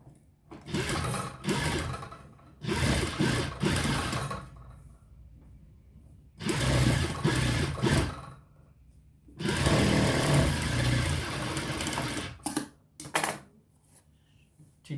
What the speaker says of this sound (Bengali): ভিতরের সাইড দিয়ে একটি সেলাই করে দেবেন